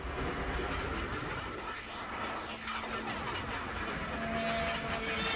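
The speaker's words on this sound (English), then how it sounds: "the beginning part of it is some sound effects of trains" Train sound effects open a David Bowie studio recording: a steady, dense rumble and rattle of rolling rail cars with faint clickety-clack, continuous and fairly quiet, with no voices.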